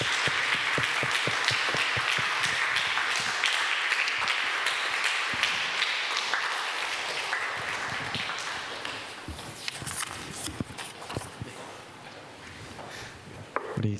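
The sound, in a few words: church congregation applauding teachers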